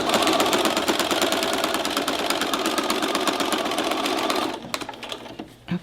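A sewing machine stitches a fabric pot holder in a steady, fast mechanical clatter, close and loud for most of the stretch, then stops abruptly, leaving a few faint handling clicks.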